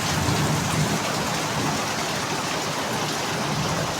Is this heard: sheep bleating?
no